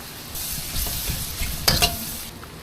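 Pork cubes frying in a pan with garlic, onion and mushroom, a steady broadband sizzle with a few scraping stirs, close and moderately loud, no voices.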